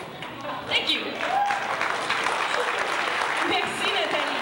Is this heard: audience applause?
yes